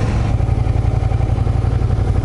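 A Suzuki Gladius 400 motorcycle engine rumbles steadily up close, a low idling chug with a faint clatter, holding at an even loudness throughout.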